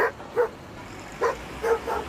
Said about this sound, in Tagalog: Ano bang problema mo, aso ka?